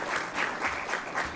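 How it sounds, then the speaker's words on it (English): Brief, steady applause from an audience at the 15th convocation ceremony of ICFAI Law School, a soft rippling clatter of many hands clapping at a distance. "big round of applause to her"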